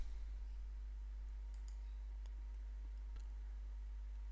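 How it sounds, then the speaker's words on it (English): A computer mouse button clicks a few times during a Joomla website tutorial, giving faint, sharp, isolated clicks over a quiet steady hum. "click the green New button"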